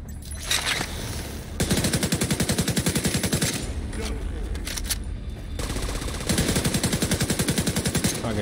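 Rapid automatic gunfire in The Division 2 during a Black Tusk invaded Potomac Event Center mission, long loud sustained bursts of rattling shots with a brief pause between, close and dominant.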